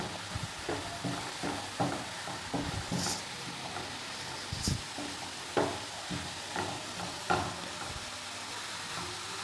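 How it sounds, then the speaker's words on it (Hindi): Garam masala and crushed red chili roast in a hot pan with a soft, steady sizzle, broken by repeated scraping and stirring strokes of a spoon against the pan. "और अच्छी तरह से भून लूँगी 1-2 मिनट के लिए बस"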